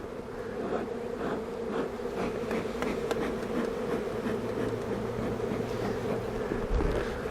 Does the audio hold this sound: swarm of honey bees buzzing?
yes